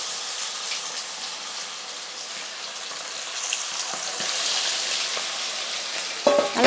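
Two quail frying in a pan of hot oil give a steady, loud bright sizzle and crackle, swelling slightly midway, with a brief clatter near the end.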